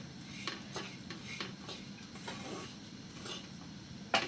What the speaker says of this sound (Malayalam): ഈ സമയത്ത് നമ്മൾ സിമ്മിലിട്ട് തേങ്ങ വറുത്തെടുക്കാവുള്ളൂ